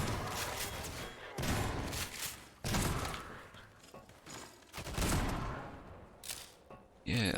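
Several loud shotgun blasts from a Combine soldier in Half-Life 2, bursts spaced a second or two apart, with game ambience and possible voices underneath.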